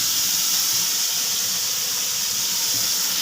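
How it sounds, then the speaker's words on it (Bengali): Whole cumin seeds sizzle in hot oil for a home-cooked Bengali tempering, giving a steady, loud, unbroken hiss that holds evenly throughout with no talking. "গোটা জিরে ফোড়ন দিই"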